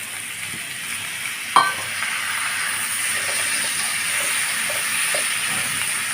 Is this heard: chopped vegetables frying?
yes